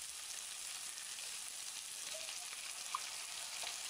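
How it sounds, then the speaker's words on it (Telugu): Onions and green chillies frying in oil until brown, giving a steady, even sizzling hiss that holds at one level throughout with no talk. "ఉల్లిపాయ, పచ్చిమిర్చిని అందులో వేసుకొని ఉల్లిపాయలు బ్రౌన్ కలర్ వచ్చేంత వరకు వేగనీయండి."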